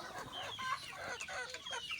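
Chickens cluck softly and faintly at close range on a small farm, a few short overlapping calls with low background noise.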